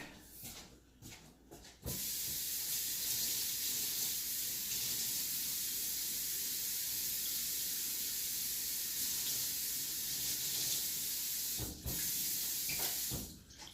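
Tap water gushing over black gunmetal kitchen knives from a Wanbasion cutlery set in a sink, a steady close rushing hiss for about ten seconds, bracketed by brief handling clatter at start and end.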